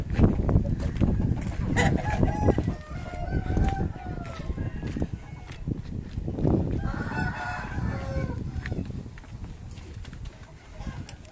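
Roosters crow repeatedly among fighting cocks kept at a breeding yard, several overlapping calls rising over a steady murmur of birds and background activity, with faint voices now and then.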